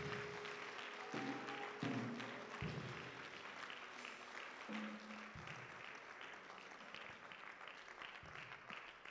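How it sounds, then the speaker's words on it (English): A congregation claps for Jesus at a fasting prayer service, steady, sustained applause at moderate distance with a few faint voices beneath it. "Would you please clap for Jesus one more time?"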